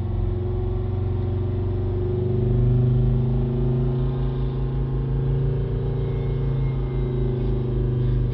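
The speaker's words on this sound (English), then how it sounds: "if we accelerate it now back up to 3000 RPM" A car engine accelerates and holds near 3000 RPM while a Bluetooth diagnostic scan tool is connected, giving a steady, close mechanical hum with a slight swell in the middle and no talking.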